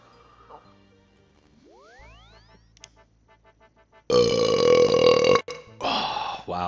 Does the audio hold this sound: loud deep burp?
yes